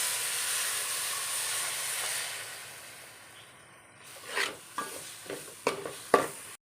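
Vinegar hits a hot pan with a broad hiss that fades, then after a brief lull comes a series of sharp scraping stirs and clatters close by.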